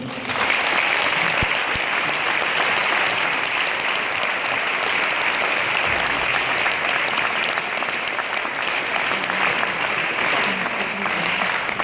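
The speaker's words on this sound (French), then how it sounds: "on peut l'applaudir" Sustained applause from an audience in a concert hall in Toulouse after a choral performance, a dense, even roar of many hands clapping that holds steady at high volume for the whole stretch.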